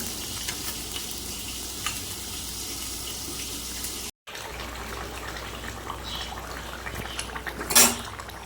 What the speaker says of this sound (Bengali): মাছ দিয়ে আমি ঝোলটা ভালো করে ফুটিয়ে নেব